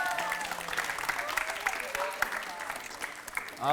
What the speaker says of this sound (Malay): ini hadiah tepukan untuk pemenang